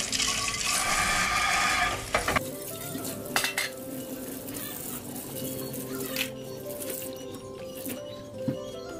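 Kitchen cleanup after breakfast: running water from a tap rushes for about two seconds, then dishes and utensils clink and clatter intermittently at close range, with no talking.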